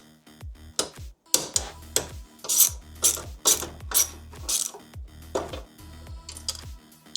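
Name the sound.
unscrewing screws on espresso machine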